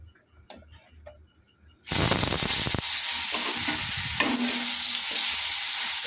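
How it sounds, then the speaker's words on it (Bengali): Pointed gourd and potato pieces fry in hot oil, a loud, steady sizzle bursting in after a quiet start and crackling continuously to the end. "এই পটল আলু ভাজা, আমার পটল ভাজা খেতে খুব ভালো লাগে"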